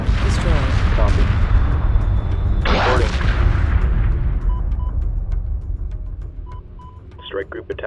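Weapons fire and heavy booming impacts rain on a strike group of spacecraft in the Homeworld 2 real-time strategy game, dense and loud at first and then thinning out, with radio-style voice chatter and beeps over the top.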